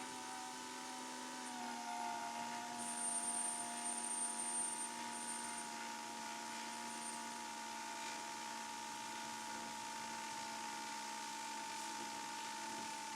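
DJI Avata 2 drone whirring in flight on easy throttle, a steady smooth tonal hum with a few sustained pitches, quiet and continuous with no voices.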